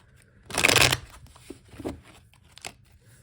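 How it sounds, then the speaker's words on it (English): A quick riffle of tarot cards being shuffled, one crisp flutter followed by a few softer taps and slides of the deck. "let's do a few shuffles here for Pisces Moon"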